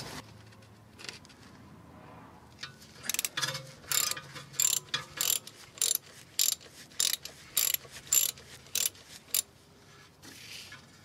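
A ratchet on two joined extensions works under a 2009 Audi A3 1.9 TDI during a drive shaft and dual mass flywheel job, giving a steady run of about a dozen sharp, close clicking bursts in an even rhythm.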